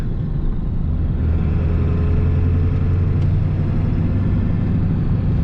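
A 1996 Ford F-350 pickup with a 7.3 diesel and straight-pipe exhaust (3-inch downpipe, 4-inch) drones with a steady, loud low rumble, continuous throughout with no talk.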